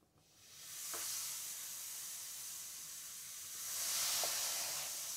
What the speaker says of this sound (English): That fizz is what's going to eat off that burnt stuff off the pot.